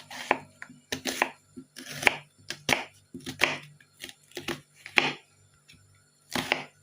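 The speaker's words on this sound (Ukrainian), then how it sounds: "Так, ну тепер у мене тут невеличка цибулька, наріжемо її зараз дрібно." A small onion is finely chopped with a kitchen knife for olivier salad: about a dozen crisp knife strikes on a board, close and irregular, with short pauses between bursts and no talk.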